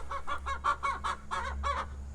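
Plymouth Rock chicken clucking in a winter coop, a steady run of about nine short, rhythmic clucks close by over a low background hum.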